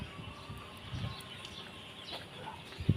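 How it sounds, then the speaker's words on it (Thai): Chickens clucking at an old house in the countryside, faint scattered clucks over a quiet outdoor background, with a louder thump near the end. "ไก่มีไก่ด้วยอ่ะ"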